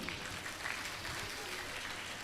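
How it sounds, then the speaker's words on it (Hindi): Soft, steady audience applause fills the room as a continuous wash of distant clapping with low murmuring. "तालियां बजाइए।"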